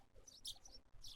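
Morning birds chirp in the video game Ayakashi Akashi, a few faint, high tweets over quiet ambience in a short moment.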